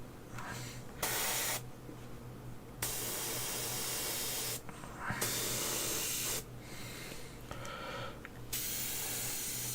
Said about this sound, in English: I say for 2 minutes with an airbrush.